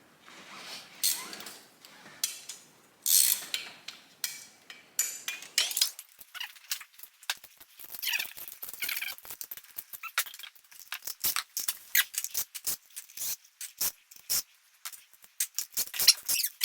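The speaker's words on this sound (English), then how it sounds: "I'm going to take these head bolts out" Head bolts are worked loose on the engine of a 1978 Kawasaki KZ1000 Z1R under restoration, with close, intermittent metallic clinks, ratchet clicks and squeaks from tools on the cylinder head, in quick irregular bursts without talk.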